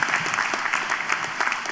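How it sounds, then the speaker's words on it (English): Sustained applause for graduates at a 2016 university graduation ceremony in Hanoi, a dense, loud wash of many hands clapping from a large audience, with no talking. "give a huge round of applause for our wonderful graduates"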